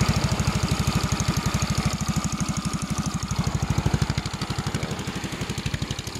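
A 200cc motorcycle engine that was started with one click idles steadily, with a fast, even, loud thumping pulse throughout.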